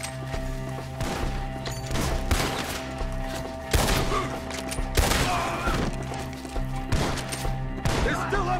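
Repeated gunfire bursts from a Red Dead Redemption 2 shootout crack out at irregular intervals over a dense bed of game noise, with voices faintly shouting in the mix.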